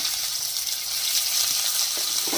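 Finely chopped onion frying in hot oil, a steady loud sizzle and crackle with faint stirring scrapes near the end.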